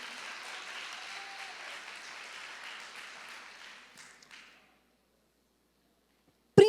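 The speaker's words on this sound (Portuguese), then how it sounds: "Aplaude mesmo" Applause from a church ministry class audience fills the room at moderate volume, then thins and fades out, leaving near silence before one sharp, loud knock at the very end.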